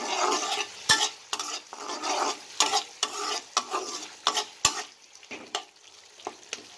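Eggplant, potato and tomato sautéing with dried loitta fish in a pan, rhythmic stirring scrapes and clanks of a spatula over a soft sizzle, repeating strokes about every half second, close and clear.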